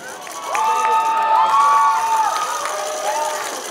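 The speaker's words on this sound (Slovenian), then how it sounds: "in še aplavz za zmagovalce" Crowd at a school quiz prize ceremony cheering and applauding the winning teams, a loud sustained roar of voices and shouts with clapping mixed in.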